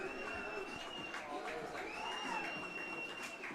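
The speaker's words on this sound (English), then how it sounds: "And the crowd goes wild" Baseball crowd at a Hays Larks versus Dodge City Athletics game cheering, a steady wash of mixed voices and shouts at moderate distance, with the announcer's voice faintly over it.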